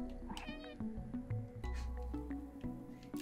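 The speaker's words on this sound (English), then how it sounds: "And you can meow while napping!" A cat meows repeatedly in the video game Stray, several short close meows spaced irregularly over a quiet soft background, no talking.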